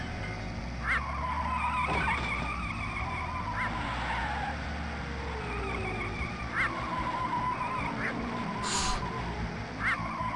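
In a racing video game, ducks honk repeatedly at regular intervals over a steady engine drone and skidding tires, with a brighter squawk near the end.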